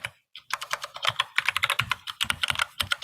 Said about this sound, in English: I was just typing to someone